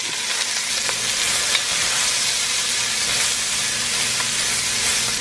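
Diced onion and sliced leek fry in oil in a pot, giving a steady, close crackling sizzle throughout with occasional stirring scrapes and no talking.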